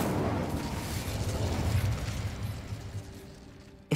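Incendio fire spell cast in Hogwarts Legacy, a roaring, crackling burst of flame that fades out over several seconds and ends with a sharp click.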